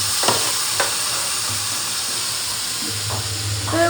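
Marinated chicken fries in a pan with a continuous close sizzle and hiss, broken by a few sharp stirring scrapes.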